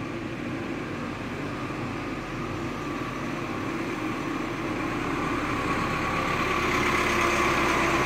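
An automatic R134a refrigerant recovery and recharge machine runs with a steady, even mechanical hum and faint whine, holding constant throughout without pauses.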